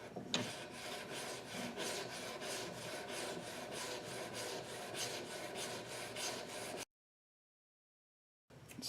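Blade being sharpened on a homemade sharpening system, a steady rasping back-and-forth scrape repeating rhythmically up close for about seven seconds, then silence before a brief return.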